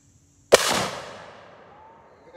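One loud, sharp 12 gauge shotgun blast goes off close by outdoors, and its echo tails away over about two seconds in otherwise quiet surroundings.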